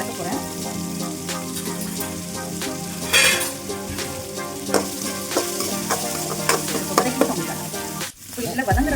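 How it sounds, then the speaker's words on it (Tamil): Green chillies and onions sautéing in a pan, a loud close sizzle and fry with frequent stirring clatter and a scrape of the utensil against the pan, and a sharp metallic knock near the end. "அப்புறம் நம்ம வச்சுருந்த பச்சை மிளகாய், வெங்காயம், இதை நல்லா நான் வதக்க போகிறேன்."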